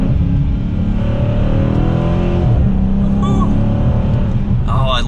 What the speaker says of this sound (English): I love the sound of this vehicle. It just has a nice deep aggressive tone to it.